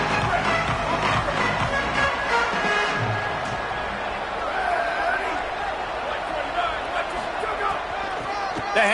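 A football stadium crowd cheering during an American football game, a dense continuous roar of many voices filling the space under an announcer's commentary.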